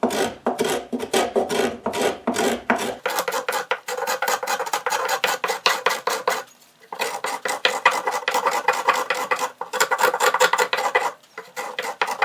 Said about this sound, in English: now I will scrape away all the chisel gouges and have a better look